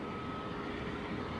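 A Kuwait Airways Boeing 777 taxiing at London Heathrow Airport, a steady, loud jet engine roar with a faint whine on top, continuous and unbroken, heard alone without voices.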